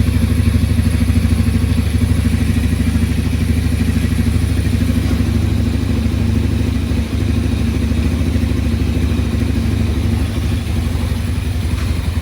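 A 1987 Yamaha Moto 4 200 ATV engine idles steadily and loudly nearby, its low, even rumble carrying on without pause and with no talk over it.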